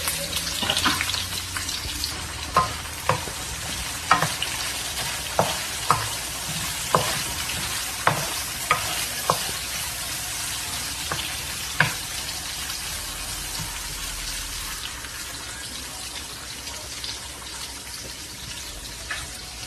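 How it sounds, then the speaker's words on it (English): Aromatics frying and being stirred in hot oil for stir-fried vegetables, a steady close sizzle broken by a dozen or so sharp scrape-and-clack stirring hits at a loose rhythm, with no talking. "It's time to add our aromatics to the oil, and we're going to stir fry these for a little while"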